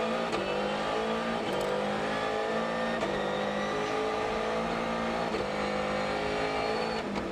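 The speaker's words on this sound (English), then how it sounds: "Latvala really getting to know this Polo R" A VW Polo R rally car races a snowy stage of the 2013 WRC Monte Carlo Rally, its engine revving hard with steady gear changes and throttle lifts, loud and close throughout.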